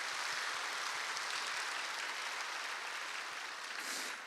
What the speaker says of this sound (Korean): 동산의 가족이 되신 분들께 마음을 담아 박수로 환영하겠습니다.